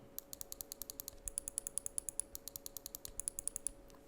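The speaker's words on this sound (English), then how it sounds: "The only complaint that I have is that the scroll sound is a bit loud." The scroll wheel of a Finalmouse ULX Pro Tarik Edition gaming mouse clicking through its detents, a quick regular run of crisp, close ticks that pauses briefly and then resumes, over a faint steady hum.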